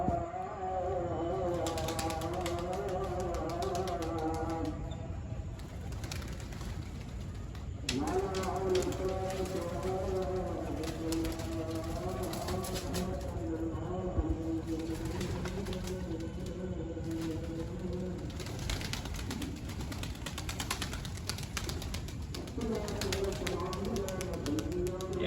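Pigeons coo in a steady, continuous chorus after being released from a loft, with a few wing flaps and faint background voices underneath.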